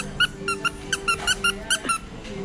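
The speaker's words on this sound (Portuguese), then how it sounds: "ele não gosta muito desses bonequinhos que fazem barulho" A squeaky plush banana toy is squeezed over and over, giving a quick, steady series of loud, high squeaks against a low background rumble.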